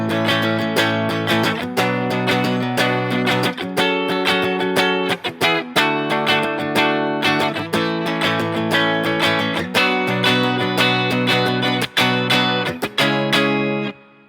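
Distorted guitar plays the second chorus of a song, a steady run of strummed chords with rhythmic accents and short breaks, loud and close with no talking.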